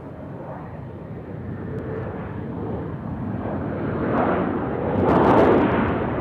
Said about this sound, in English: So there's the A350 as it's about to fly over Percy Priest.